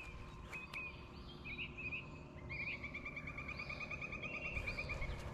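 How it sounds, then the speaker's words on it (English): Birds chirping and trilling outdoors in a quiet, peaceful spot, repeated high calls rising over a low steady background hum, with no talking. "You hear those birds?"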